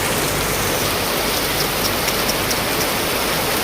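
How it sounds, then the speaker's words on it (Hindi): Heavy rain pours steadily outside a house by a sheltered road, a dense, continuous hiss of drops on surfaces that stays loud and even throughout, with no voices. "देखो कितनी तेज़ बारिश लगी है।"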